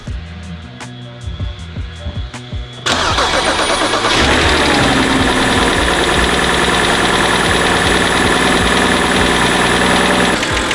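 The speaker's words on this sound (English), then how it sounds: "so we're gonna go ahead and turn on the car." A BMW car engine cranks briefly after a few faint clicks, catches and starts, then settles into a loud, steady idle close by with no talking.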